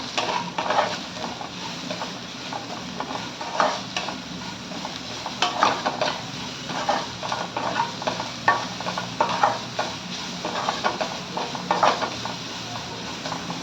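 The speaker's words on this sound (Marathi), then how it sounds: "भाज्या परतत असताना त्यामध्ये मीठ घालायचं आहे." Mixed vegetables stir-fry in a pan for homemade hakka noodles, a steady moderate sizzle with repeated scraping and stirring of a utensil against the pan throughout.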